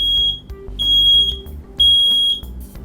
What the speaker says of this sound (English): That's a smoke detector, and it looks like Sparky is in the kitchen testing it.